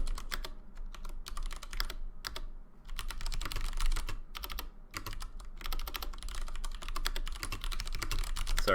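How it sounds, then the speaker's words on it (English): Loud, rapid typing on a computer keyboard during an esports qualification match broadcast, with dense, irregular bursts of clacking keystrokes close to the microphone and brief pauses between runs. "I know my keyboard's super loud."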